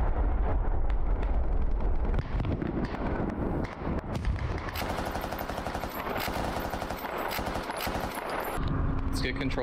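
In a video game, an M240B machine gun fires sustained bursts, with rapid repeated cracks and booming impacts layered over explosions and battle noise, loud and dense throughout.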